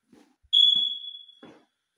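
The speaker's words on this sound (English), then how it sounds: "Smoke detectors are chirping." A single high-pitched smoke detector chirp sounds in a house bedroom, a clear piercing electronic beep lasting about a second, with faint shuffling or footsteps just before and after.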